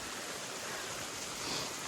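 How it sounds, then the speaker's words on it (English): A waterfall along the Appalachian Trail pours in a steady, close hiss of falling water, brief and unbroken, with no voices. "We're at our second waterfall for the day."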